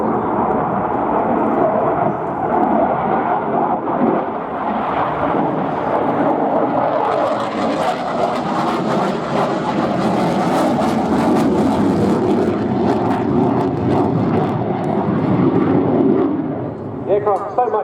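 A Polish Air Force Mikoyan MiG-29A jet fighter flying a display at an airshow, its engines a loud, sustained roar that swells and rushes past, under a commentator speaking over the public address.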